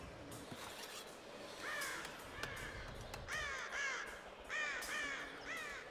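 Crows in Rise of the Tomb Raider caw in repeated harsh calls, often in pairs, moderately close over a dim ambient background, with a few sharp clicks between calls and no speech.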